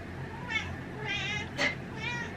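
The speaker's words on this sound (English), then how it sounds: "hey Chanel, my cat's down there, so if you hear like meows, that's, it's from her" A cat meows three or four times in a row, short drawn-out cries at moderate volume over quiet background hum.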